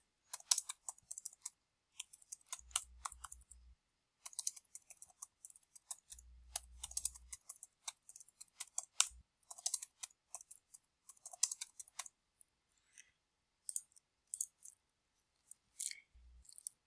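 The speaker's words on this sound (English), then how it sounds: "my typing is not as efficient on a tiny little laptop keyboard" Typing on a tiny laptop keyboard, quick bursts of close, crisp key clicks separated by short pauses, with occasional low thumps between runs.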